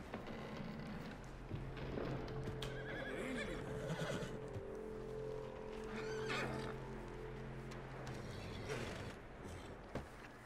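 A horse in Red Dead Redemption 2 gives a clear, drawn-out whinny, with some hoof clops and faint creaking in the background.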